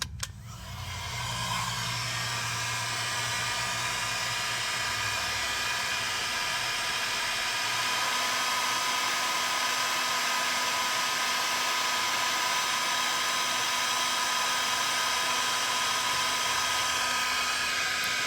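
A heat gun blows steadily on heat shrink tubing during wiring repairs on a 1971 Chrysler New Yorker, a loud continuous whirring hiss that starts abruptly and holds at a constant level throughout, close to the listener.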